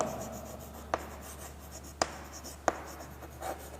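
Marker or pen writing out constructor syntax on a board during a programming lecture, heard as a few sharp, separate strokes spread over a few seconds against a steady low background hum, with no voices.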